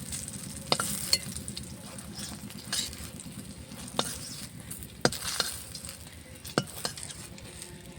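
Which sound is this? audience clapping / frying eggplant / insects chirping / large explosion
frying eggplant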